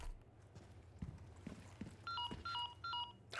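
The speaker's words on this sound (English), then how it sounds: "I'm getting a phone call" A phone call ringing in the Resident Evil 4 Remake video game, a few short, repeated electronic two-tone chirps following soft footstep thuds, quiet and close.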